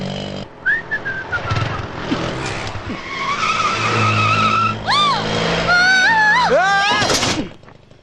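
A vehicle's tires squeal and skid in rising, wavering screeches over engine noise and music, building to a sharp final screech before cutting off abruptly; voices are faintly present underneath.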